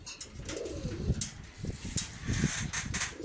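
A racing pigeon in a loft gives several soft, close-up coos in short throaty bursts, with light shuffling and faint background noise between the calls.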